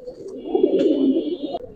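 A pigeon at a loft gives a short, close, soft coo, heard alone.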